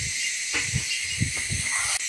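A steamer pot of eggplant and chili peppers gives a steady, loud hiss of escaping steam as its lid comes off, with a few soft low knocks from the lid and pot, and no voices.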